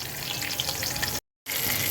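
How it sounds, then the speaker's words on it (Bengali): A large Katla fish head fries in oil, giving a dense, close sizzle and crackle throughout, broken by one short silent gap before the frying noise resumes. "মাথাটা কিন্তু বেশ খানিক বড় তো চলো মাছটাকে ভেজে তুলি"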